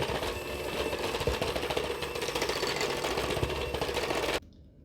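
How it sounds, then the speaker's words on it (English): Electric hand mixer beating lemon lavender sable cookie dough in a bowl, a steady loud motorized whir with a rough grinding texture that runs continuously, then cuts off abruptly near the end. "we are just going to use our hand mixer again and mix this until everything's all combined"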